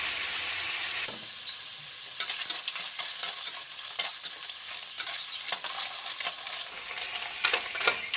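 Surf clams hiss and sizzle in a hot pan with chili and garlic, a loud burst of frying at first, then repeated scraping and stirring clatters over a steady crackle.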